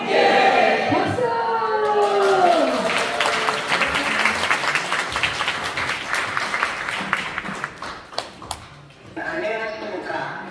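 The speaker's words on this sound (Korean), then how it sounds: "박수!" Audience applause at a political gathering, a broad crowd clapping with scattered cheers and shouts over voices, swelling then thinning out before a fresh burst near the end.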